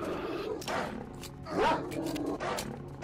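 Hostile dogs snarl and growl in the game S.T.A.L.K.E.R., rough aggressive snarls rising and falling, fairly loud and close against an ambient game background.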